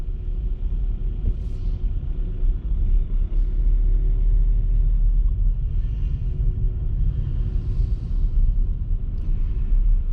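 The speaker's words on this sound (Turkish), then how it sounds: "Otobüs elektrikli otobüs. Bakın yukarıda tellere bağlı." An electric trolleybus on an overhead-wire street in Switzerland passes nearby with a low, steady rumble and soft whine, tire and traffic noise swelling slightly, no talk.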